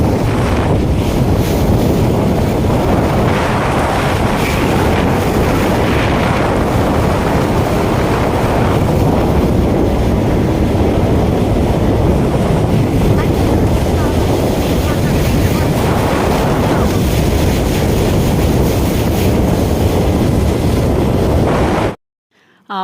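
A speed boat ride on the Alleppey backwaters in Kerala: loud, continuous wind buffeting and rushing water spray dominate throughout, with muffled voices underneath, ending abruptly.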